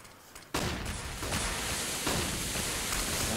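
Grenades and gunfire fill a Counter-Strike round on de_mirage in a 2015 FACEIT match: a sudden loud burst hits after a quiet moment, followed by a sustained roar of blasts and noisy hiss with no talk.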